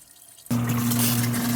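Water suddenly starts gushing into a tank with a steady, loud rushing hiss under a low pump-like hum, continuing unbroken after a quiet start.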